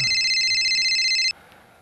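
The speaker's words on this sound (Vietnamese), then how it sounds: "Anh nghe điện thoại đi." A mobile phone rings with a loud, steady electronic tone that holds for over a second and then cuts off abruptly, leaving a quiet room.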